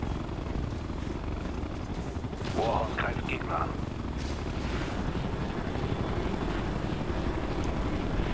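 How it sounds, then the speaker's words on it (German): A helicopter in the video game Ghost Recon Future Soldier gives a low, continuous rotor rumble, mixed with bursts of gunfire and a brief in-game voice line. "Oh, ich höre den Heli."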